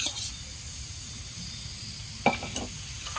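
Steady sizzling of pork frying in a hot pan, with a couple of utensil scrapes and clinks against the pan near the end.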